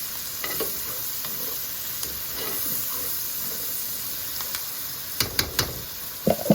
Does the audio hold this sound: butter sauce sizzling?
yes